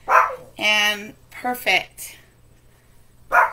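A dog barks indoors at a live teddy bear shopping session, several sharp yips and barks coming close and loud, mixed with a woman's speech.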